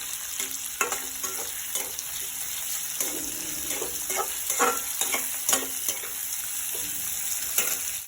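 Potatoes fry in a pan on a gas stove, giving a steady hiss and sputter with intermittent stirring knocks, close and moderate in level, with no talk.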